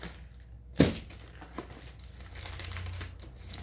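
A plastic phone case package crinkles and tears open, with one sharp crackle near the start followed by lighter rustling and crumpling of the wrapper, close and without speech.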